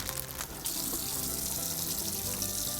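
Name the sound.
tap water running while washing cilantro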